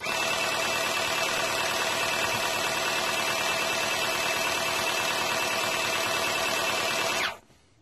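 A Tamiya airbrush system sprays paint with a continuous, even hiss of compressed air that holds steady and near for about seven seconds, then cuts off abruptly into quiet.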